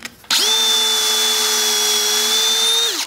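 A power drill drives a screw into a Windsor workbench. It starts abruptly and runs at a loud, steady whine for almost three seconds, then winds down. The sound is close and no one talks.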